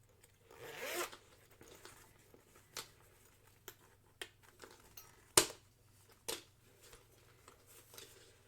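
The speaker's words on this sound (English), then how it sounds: "I gotta put the zipper end on." Zipper handled while sewing a Valora handbag: scattered short zips and rattles of the metal pull, a longer rasp near the start and several sharp clicks, close and quiet with no talking.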